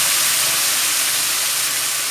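Tamarind gravy poured into hot red-fried onion tempering for a bitter gourd and egg pulusu curry sends up a loud, steady sizzling hiss that stays even throughout, with no one talking.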